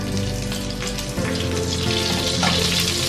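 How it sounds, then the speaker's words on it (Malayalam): Olive oil and butter heat in a hot pan, producing a continuous loud sizzle with a low steady hum beneath it and a brief shift in tone partway through, without any talking. "ഒരു പാൻ നന്നായിട്ട് ചൂടാക്കിയിട്ട് അതിലേക്ക് കുറച്ച് ഒലിവ് ഓയിലും കുറച്ച് ബട്ടറും കൂടെ ചേർക്കാം."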